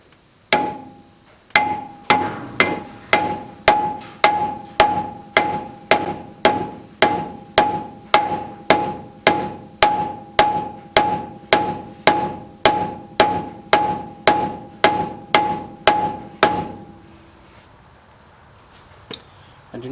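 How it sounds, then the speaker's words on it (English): Rubber hammer tapping a new bearing race cup into a 1945 Willys MB steering knuckle, about thirty evenly spaced dull knocks close by, then stopping, leaving quiet room noise. "my rubber hammer."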